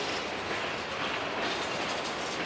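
CSX mixed freight train passing close by, a steady loud rumble of rolling cars with faint rhythmic clatter of wheels over rail joints, no voices.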